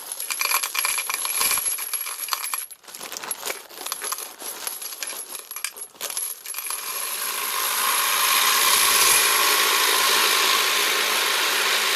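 A bag of about 200 brass .223 rifle casings pours into a cleaner, making a dense, loud metallic rattle and clatter in bursts that gives way to a steadier churning whir.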